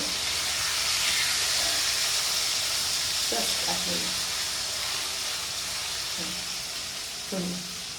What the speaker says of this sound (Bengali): আমি এখানে চিকেন ফ্রাই করছি, যেটা ম্যারিনেট করা, আর এটা ওখানে ফ্রাই হচ্ছে।